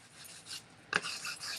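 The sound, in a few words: sanding and distressing a frame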